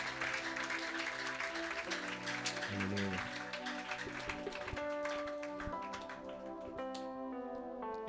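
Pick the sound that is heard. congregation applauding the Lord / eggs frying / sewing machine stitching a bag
congregation applauding the Lord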